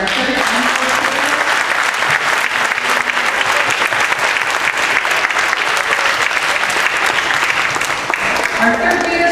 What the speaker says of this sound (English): We have one more round of applause for our 3rd and 4th graders.